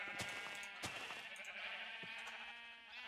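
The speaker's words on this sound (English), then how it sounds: "Now you can be the Jeb sheep." Sheep bleating in the Minecraft video game, several short nasal bleats overlapping at close range, repeated a few times over a quiet background.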